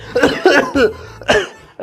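A person coughs harshly several times in quick bursts, close up, with brief pauses between the fits.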